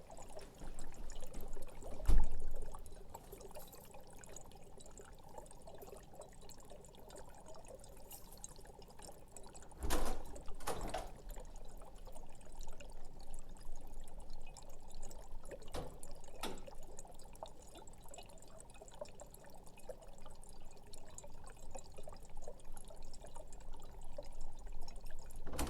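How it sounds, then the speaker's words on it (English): Liquid bubbling during a Halloween magic worm science demonstration, a soft, continuous fizzing trickle at close range with a couple of louder clunks early on and no talking. "while you just enjoy this bubbling"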